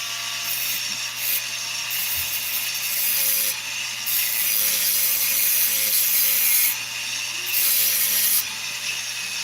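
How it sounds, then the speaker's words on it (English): A slot is cut into a screw insert for fixing a stripped hole, giving a steady rasping, grinding tool noise close by, with brief louder bursts and a low mechanical hum underneath. "what I want to do is I'm just going to put a slot here."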